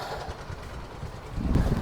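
A low rumbling train engine idles nearby at Ranpur railway station, with a faint mechanical hum that swells slightly toward the end.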